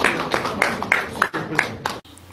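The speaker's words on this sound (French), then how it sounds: "Sous vos applaudissements, s'il vous plaît" Applause from the audience at a formal ceremony honouring a president, brisk clapping bursts heard close and mixed with voices, dropping away abruptly near the end.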